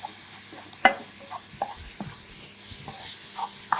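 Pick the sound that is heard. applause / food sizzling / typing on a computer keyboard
food sizzling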